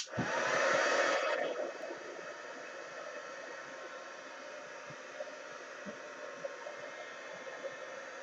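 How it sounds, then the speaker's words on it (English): A heat gun warms waxy, wax-soluble art bars, blowing a steady, close airy roar that starts loudest, then settles to a constant hiss for several seconds. "Heat gun."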